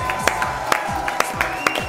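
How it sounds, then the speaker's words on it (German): Applause greets a guest on a German music quiz show: a handful of sharp, separate claps at a fairly regular beat stand out over a background of steady tonal music and low thumping. "Einen großen Applaus für Axel!"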